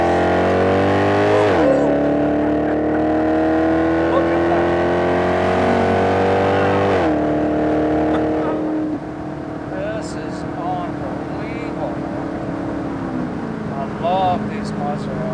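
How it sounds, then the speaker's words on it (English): A 2014 Maserati GranTurismo's exhaust revs in sport mode, its engine note rising in sustained, loud sweeps with gear changes, while someone talks over it. "You hear that exhaust note,"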